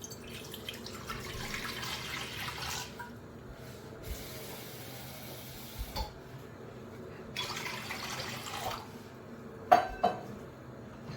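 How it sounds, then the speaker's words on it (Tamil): Water runs from a tap into a kitchen pot being filled to boil cauliflower, a soft continuous rushing stream broken by short pauses, with a few metallic clinks of the vessel near the end. "இப்போ ஒரு பாத்திரத்தில் இந்த காலிஃப்ளவர் வேகிறதுக்கான தண்ணியை போட்டுக்கலாம்."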